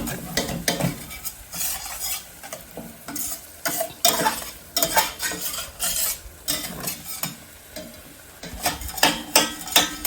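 A utensil scrapes browned fond across a hot pan while Salisbury steak cooks, giving repeated loud strokes and scrapes over a light background sizzle.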